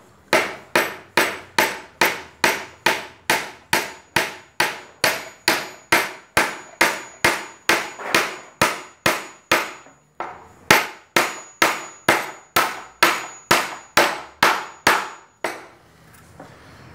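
Steady hammer blows driving a very long nail into wood, about thirty loud, evenly spaced ringing strikes with one short pause midway and no talking.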